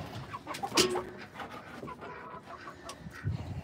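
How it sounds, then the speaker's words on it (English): Farm chickens cluck and murmur nearby in short, irregular bursts, with one louder squawk early on and softer fowl chatter throughout. "No, chickies, you cannot be out right now."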